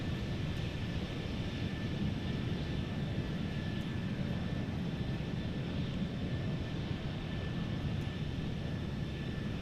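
Steady, loud roar of Boeing 737-800 jet engines heard from outside the aircraft in Microsoft Flight Simulator 2024, a constant broadband rumble with a faint high whine, unbroken throughout with no talking.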